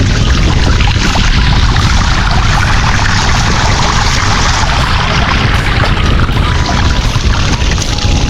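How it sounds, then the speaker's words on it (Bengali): Flowing water rushes over a bicycle, a loud, continuous roaring wash with no break, heavy and close throughout. "কত সুন্দর ভাবে দেখ সাইকেল ধুয়ে যাচ্ছে"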